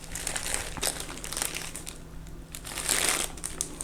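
Crinkling and crushing of the packaging around a Pietta 1851 Navy .44 calibre black-powder revolver as it is unwrapped, a steady close rustle with sharper crackles throughout and no talking.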